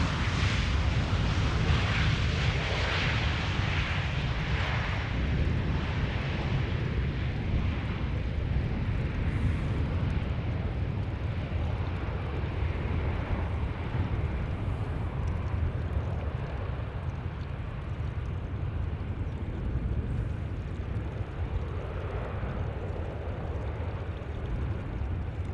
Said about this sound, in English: Maybe a military propeller overhead somewhere here in the vicinity.